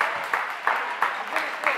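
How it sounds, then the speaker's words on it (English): A crowd in a high school basketball gym applauds on senior night, with a dense wash of clapping that swells in regular pulses as an announcer's voice carries over it. "a big round of applause for everybody, especially Carson Rohde at senior night"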